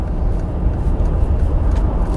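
A 2013 Mercedes-Benz AMG G63 accelerating hard, heard from inside as a steady, loud, dense low roar of engine and road noise with no talk.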